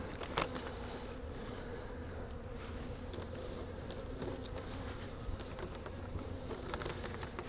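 Honey bees in a beehive checked after an Arctic blast buzz as a soft, continuous drone of many insects close by, with occasional scraping and tapping sounds over the hum.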